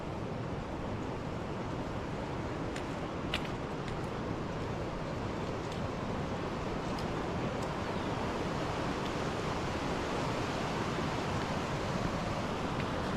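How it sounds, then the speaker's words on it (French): A small river on the Salkantay trek rushes in a continuous, even broadband wash. It stays close and fairly loud throughout, with no voices over it. "Voilà la petite rivière."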